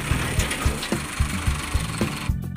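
A tractor engine runs steadily at a mountain-village wedding procession, its low, rhythmic diesel chug pulsing with repeating knocks, close and loud throughout with no talk.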